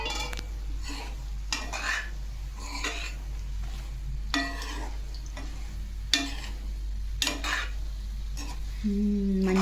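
Tomatoes fry in a pan with a soft sizzle, broken by repeated scraping stirs of a utensil against the metal and a clink at the end.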